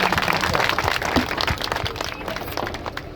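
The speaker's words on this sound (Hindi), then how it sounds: "एक बार जोरदार तालियों से स्वागत और अभिनंदन।" A crowd at a political welcome event in Mirzapur, Hisar claps for an arriving guest, dense overlapping applause that stays loud before thinning slightly toward the end.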